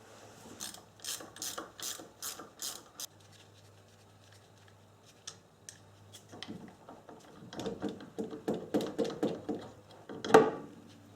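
A ratchet wrench turning out the 12mm bolts that hold a master cylinder to a brake booster, in quick bursts of close, crisp clicking strokes, with a pause of light handling noise and then a second longer run of clicks.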